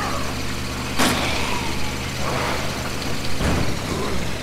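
A burning car in the video game State of Decay gives a steady broadband roar with sharp bursts near the start and end, all loud and without speech.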